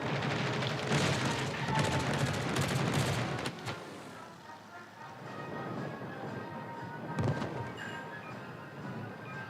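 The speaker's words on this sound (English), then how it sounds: "We actually do get 3 torpedo hits" Torpedo hits and explosions in the naval battle game World of Warships: Legends, a dense run of booming impacts and gunfire that is loud at first, drops quieter midway, then brings a further sharp hit under a steady battle rumble.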